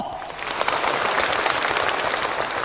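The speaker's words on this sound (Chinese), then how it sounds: "我建议我们用热情的掌声，感谢1个世纪以来为粤剧事业发展做出贡献的人们" Warm audience applause at a televised Cantonese opera competition, a dense, steady clapping that fills the hall for a few seconds.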